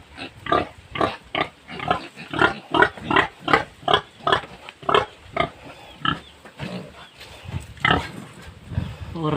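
Native pigs grunt and squeal in a rapid, rhythmic series of loud close calls while being moved from free range into a pigpen, with a few quieter grunts and some background voices toward the end.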